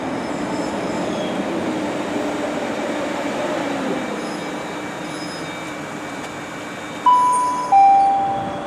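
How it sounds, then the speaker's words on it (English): A train rumbles past on the rails at Rugeley Town Station with a steady roar, then high-pitched wheel squeals ring out twice near the end. "I have come off that train right behind me"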